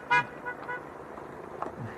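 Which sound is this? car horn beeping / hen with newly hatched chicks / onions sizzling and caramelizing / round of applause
car horn beeping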